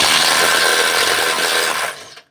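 Loud, close power tool whir from a compact impact wrench removing bumper bolts on a lifted 1997 Ford F250 4x4, running steadily for about two seconds before cutting off abruptly.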